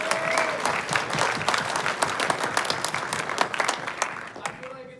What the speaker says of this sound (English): Round of applause for that, absolutely.